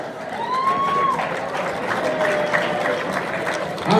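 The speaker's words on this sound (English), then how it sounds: "give a round of applause" A crowd claps and cheers in sustained applause at an amateur motorcycle racing awards banquet, with a few whistles rising above, fairly loud and continuous.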